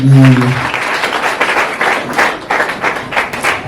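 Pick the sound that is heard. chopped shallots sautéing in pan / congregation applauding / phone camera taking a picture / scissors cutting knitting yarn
congregation applauding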